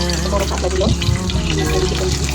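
Oil sizzling and crackling steadily in a pan for frying katla fish, a close, dense hiss with small pops throughout and a faint voice in the background.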